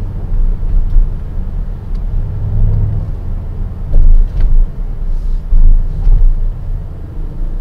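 A 2020 Mercedes-AMG C63 S Estate in Sport Plus mode drives through the city, its engine a steady low rumble from inside the cabin that swells in brief surges of revving around a few points.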